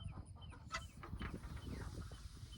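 Chickens cluck softly and intermittently against a low background rumble, a few short calls scattered over a couple of seconds.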